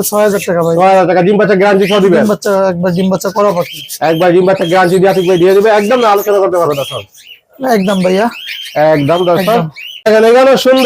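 Cockatiels call at a bird shop, chirping and squawking nearby under nearly continuous talk by a man.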